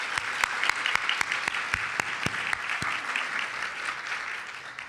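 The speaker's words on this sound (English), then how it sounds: "Let's give them a round of applause." Steady applause from the audience at a women's event during a golf championship, a dense wash of clapping with a few sharp nearby claps standing out, continuing without speech.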